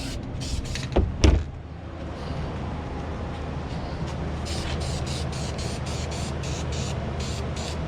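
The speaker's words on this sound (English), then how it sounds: "hit it with some black spray paint. Gloss black, engine enamel" Gloss black engine enamel spray paint applied to a dump trailer part, heard as a string of short, regular hissing bursts over a steady background, after a couple of dull knocks early on.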